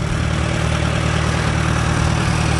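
A Farmall tractor engine runs close by with a loud, steady, even idle and a deep low rumble. It is treated with Seafoam after carburetor problems and continues unbroken without talk.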